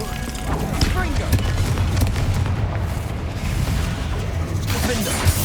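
Confringo fire spell blasts in the Hogwarts Legacy video game, several booming bursts and crackling impacts spread across a busy stretch of combat noise, with a voice calling out over them.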